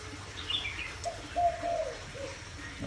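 A caged wild-caught songbird chirping, a few short warbling calls and twittering notes close by over a low background hum, no voices.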